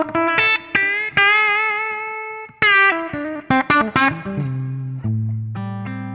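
Electric guitar played through a Fractal processor set to a clean amp, cabinet and reverb for a particular tone: sustained, singing single notes and bends with smooth decay, loud and close, no talking.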